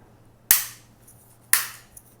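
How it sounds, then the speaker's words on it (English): The foreguard of an IOF-made 12 gauge double-barrel shotgun snaps into place with two sharp, close metallic clicks about a second apart, each fading quickly into near silence. "Next, we place the foreguard or the hand guard, and our shotgun is complete."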